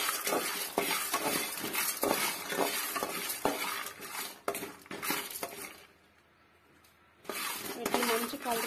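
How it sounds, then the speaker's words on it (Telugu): Sesame seeds and peanuts dry-roasting in a pan, stirred with a spoon: steady scraping, rattling and light clinks against the metal, close and continuous, with a brief quiet pause before the stirring resumes. "ఒక స్పూన్ నువ్వుగుండ్లు, ఒక స్పూన్ పల్లీలు. వీటిని మంచిగా వేగేటట్టు వేయించుకోవాలి."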